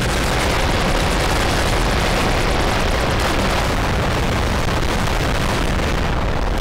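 A weapons cache exploding in a video game, producing a sustained, roaring wall of loud blasts and rumbling booms that runs without a break, with no voices.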